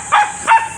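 A dog barks twice in quick succession, two short yips a fraction of a second apart, fairly close and clear with no talking over it.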